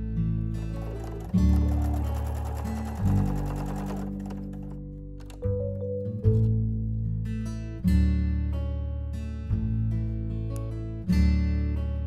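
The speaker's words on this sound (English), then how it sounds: "Lower the presser foot and continue sewing till the next stop where I need to turn my project and bend my felt roof detail." Sewing machine stitching a felt roof detail on a farm barn quiet book page, running in repeated close bursts of steady mechanical hum and needle clatter with brief pauses between runs.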